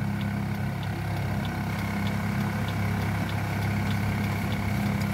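A truck engine idles steadily throughout, a continuous low rumble with an even, unbroken drone and no voices.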